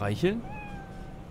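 A cat in the video game Cyberpunk 2077 gives one clear, drawn-out meow that trails off softly, following a brief burst of speech.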